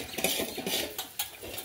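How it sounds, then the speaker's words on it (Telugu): Dishes being washed by hand at home, with metal utensils and pots clinking and scraping in quick irregular clatters, close and moderately loud, no voices. "గిన్నెలు దమ్ముతుంది ఇక్కడ"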